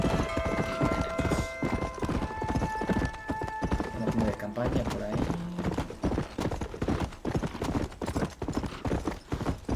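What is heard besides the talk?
horse hooves galloping in Red Dead Redemption video game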